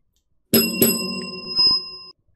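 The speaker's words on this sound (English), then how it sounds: "Oh, that was a terrible bell. I'm going to try it again." A small bell rung to open a live tabletop board game show gives two quick bright strikes close to the microphone, followed by a softer third ring, with a sustained metallic tone that cuts off abruptly.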